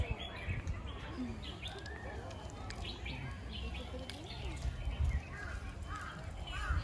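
Faint, scattered bird calls and chirps sound outdoors at the Big Buddha on Lantau Island, Hong Kong, over a soft background murmur.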